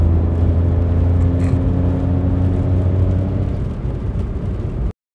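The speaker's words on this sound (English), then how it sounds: "we'll have to make do with comedy intake noise" A Daewoo Matiz engine drones with a steady low intake hum and whir, loud and close inside the car, holding even for about five seconds before cutting off abruptly.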